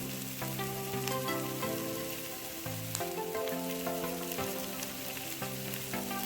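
Shredded cabbage, onion and capsicum sizzle steadily in a hot pan for street-style veg chowmein, a constant crackling frying sound beneath prominent background music.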